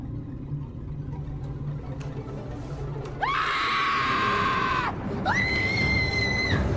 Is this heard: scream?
yes